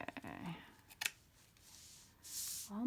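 A few soft snips and rustles of scissors working through fabric, quiet and close, with a voice briefly audible toward the end.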